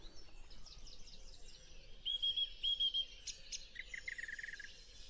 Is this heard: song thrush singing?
yes